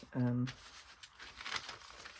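Wrapping paper from a package, reused for a junk journal, is crinkled and handled by hand, giving a soft, continuous rustling just after a brief hummed vocal tone.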